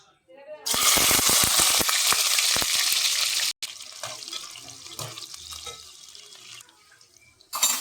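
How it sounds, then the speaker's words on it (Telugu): Onions hit hot oil in a biryani pot with a loud burst of sizzling that drops off abruptly, then settle into a quieter, uneven crackle with occasional spits and a final sharp flare. "ఆనియన్ అయితే బ్రౌన్ కలర్ వచ్చే వరకు వేయించుకోవాలి"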